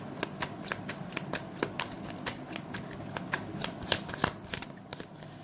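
Tarot cards being shuffled by hand, a steady run of quick, crisp riffling snaps repeating for several seconds at close range with no talking.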